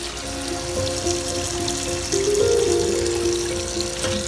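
Water trickles and drips steadily from freshly washed garden greens lifted over a sink, a close, continuous splashing drain with a faint tonal hum beneath and no speech.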